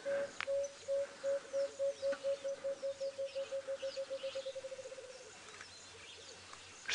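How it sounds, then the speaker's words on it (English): An emerald-spotted wood dove calls in the bush on a sunset safari drive: a long series of soft, hollow coos that start slow, then speed up and fade away in a descending trail. Faint background birds chirp. "we've got a couple of emerald spotted wood doves"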